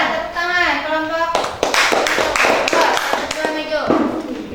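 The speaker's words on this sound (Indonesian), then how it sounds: "Iya, tepuk tangan." Classroom applause in an Indonesian lesson, dense hand clapping from a group of students beginning after a brief stretch of children's voices and continuing loudly with overlapping chatter.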